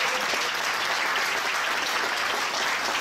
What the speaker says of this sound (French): Donc vous pouvez vous applaudir, c'est grâce à vous.